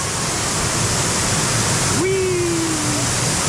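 Waterfall at the Grutas de Tolantongo hot springs in Mexico pours down as a steady, loud, full rush of water that fills the whole clip, with a brief whistle-like tone partway through.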